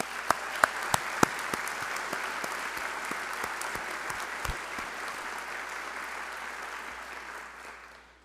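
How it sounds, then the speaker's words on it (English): A crowd applauds outstanding students at an education celebration, opening with a few sharp, close claps before settling into a full, steady round that fades gently at the end. "let's give these outstanding students one more round of applause for their achievement"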